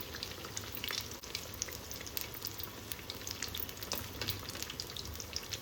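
Cheese-filled ridge gourd fritters fry in hot oil, giving a faint, steady sizzle dotted with small crackling pops that carries on continuously, with no voices.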